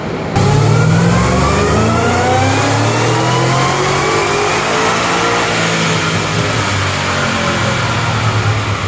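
A Cadillac CTS-V wagon engine running on E85 with an upgraded pulley revs up hard and loud, its pitch climbing steadily in one continuous pull, close by with no talking.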